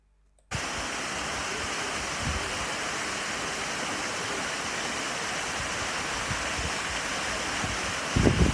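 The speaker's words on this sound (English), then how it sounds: "See a waterfall." An Irish waterfall roars in a steady, full hiss of rushing water that starts abruptly and stays constant and close.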